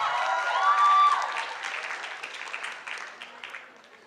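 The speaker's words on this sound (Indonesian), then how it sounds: "tepuk tangan" An audience at a university event claps in a thinning burst that tapers off over a few seconds, with a brief tone sounding at the start.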